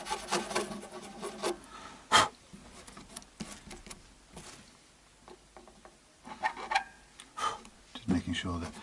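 A file scrapes back and forth in the nut slot of a Tokai Strat guitar, producing soft, close rasping strokes in uneven bursts with brief pauses and light wooden knocks between them.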